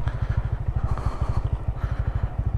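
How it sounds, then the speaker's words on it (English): A motorcycle engine braking downhill gives a rapid, even low-pitched thumping pulse, loud and close, running without pause and with nobody talking. "Engine brake tayo guys."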